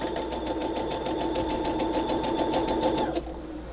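Sewing machine stitching a quilt block, a fast steady rattle of needle strokes up close that stops abruptly near the end.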